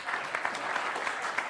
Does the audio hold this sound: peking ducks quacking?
no